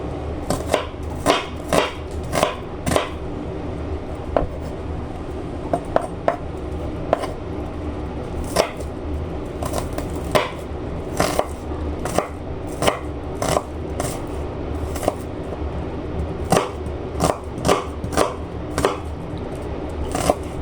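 A knife chops onion and garlic on a cutting board with steady, rapid taps that run throughout, close and crisp, with a few scraping knocks mixed in.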